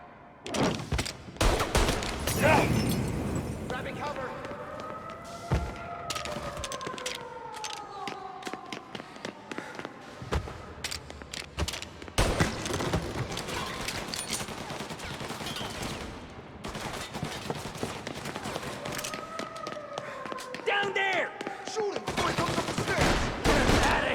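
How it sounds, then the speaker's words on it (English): Bursts of gunfire crackle through a Mafia: Definitive Edition shootout, rapid volleys and scattered single shots repeating loudly with brief pauses, while shouted voices cut in between. "Throwing some fire!"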